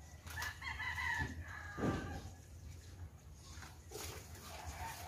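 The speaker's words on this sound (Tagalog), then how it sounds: "Ito yung manok niya, pang sabong." A fighting rooster crows a few times amid outdoor farmyard noise, with some clucking and background hum; moderately near and fairly clear.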